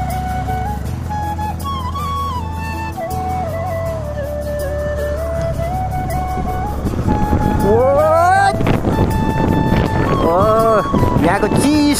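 A Yamaha FZ motorcycle ridden along a road, its engine humming steadily and then revving up sharply twice near the end, with wind buffeting the microphone and a voice talking over it.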